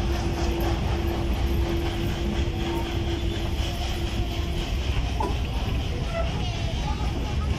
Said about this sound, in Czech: Tady vidět celý vlak